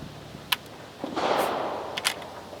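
A 1580 Spanish matchlock arquebus goes off with a sharp crack, followed by a broad whooshing burst and hiss that fades out, with a few small clicks around it outdoors.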